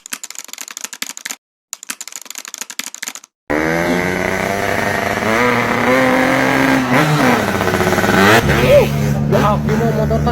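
A motorcycle engine is revved hard, its loud buzzing note climbing and falling in repeated pulls close by. Before it starts there are several seconds of sharp, rapid clicking.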